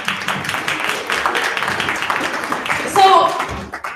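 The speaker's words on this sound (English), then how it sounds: "Give them a round of applause." Scattered clapping from an audience of students and parents at a school information night, fairly close and uneven, with voices chattering in the room throughout.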